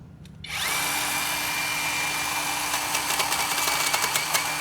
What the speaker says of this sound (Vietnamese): Tiếp tục là cưa cây thứ 2.